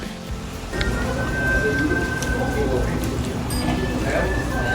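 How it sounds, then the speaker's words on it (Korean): Steady rain hisses outside throughout, dense and even, with a voice and a faint sustained gayageum tone over it. "바깥은 비가 오죠."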